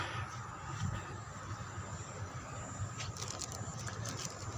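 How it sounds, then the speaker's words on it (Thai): Soft, steady patter of rain drums quietly and continuously, with a faint low rumble underneath. "ว้าวมีฝนมาอีกแล้ว"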